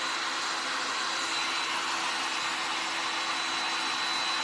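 A hot glue tool reheating glue strips for a painted statue craft blows a steady, loud, hissing stream of hot air, continuous and close, with no talk.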